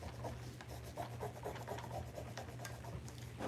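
Rhinestone transfer being rubbed onto a fabric tote bag, a quiet repeated scratchy rubbing in short uneven strokes, close up over a low steady background hum.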